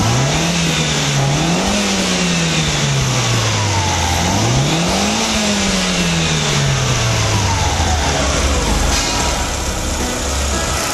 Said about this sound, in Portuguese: Agora o carro está em marcha lenta, eu vou acelerar o carro